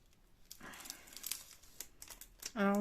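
A plastic sachet is torn open by hand along its serrated edge, a crinkly, rasping rip of crackles building over a couple of seconds, with a brief voiced tone at the very end.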